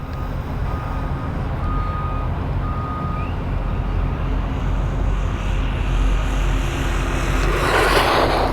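An ENOZE 1/10th scale RC buggy runs at full speed, its electric motor a steady droning whine with a faint high beeping tone, rising to a loud rushing burst as it passes close at the end.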